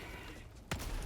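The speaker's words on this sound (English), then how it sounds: "Throwing grenade" A grenade thrown in Helldivers 2 goes off as a single sudden blast partway through, loud against a steady backdrop of game noise, with a rumbling tail.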